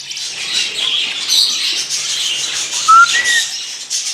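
A small female rosella parrot chirps and squawks in short, high bursts, close and fairly loud, with soft rustling between calls.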